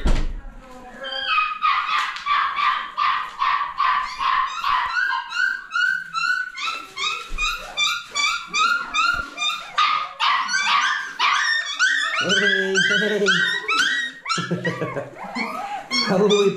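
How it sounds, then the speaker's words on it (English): Several puppies bark and yip in high, rapid bursts, a busy overlapping chorus close by, with a few whimpers mixed in. "woolly puppies."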